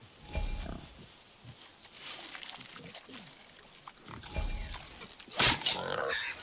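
Wild boar grunts in the God of War video game, a few low rough grunts amid game ambience and a sharp burst near the end.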